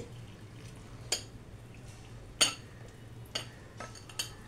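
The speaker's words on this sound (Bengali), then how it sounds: "কাস্টার্ড পাউডার দিয়ে ঠান্ডা জল দিয়ে এটাকে গুলে নিতে হবে" A spoon stirs custard powder into cold water in a small bowl, giving soft scraping with a few sharp clinks against the dish at irregular intervals, quiet and close, over a low steady hum.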